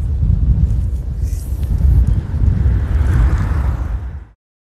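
Strong wind buffets the microphone with a constant low, rumbling roar that stays heavy throughout, then cuts off abruptly near the end.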